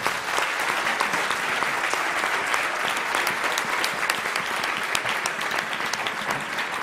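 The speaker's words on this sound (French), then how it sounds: "On les applaudit." Audience applause fills the hall at the close of a conference talk, a dense, steady clapping that stays loud and even for several seconds with no voices over it.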